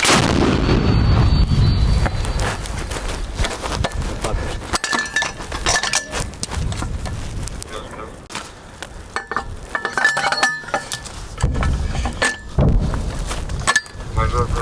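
A mounted grenade launcher fires with a heavy, loud boom, followed by rattling metallic clinks and rumbling echoes, with faint voices in the background, at the front line.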